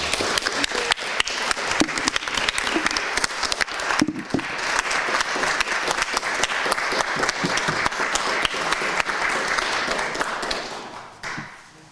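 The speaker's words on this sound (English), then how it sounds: "can we have a round of applause for our speaker?" Sustained applause from a Sunday forum audience for a guest speaker, many hands clapping in a dense, even patter that thins and fades toward the end.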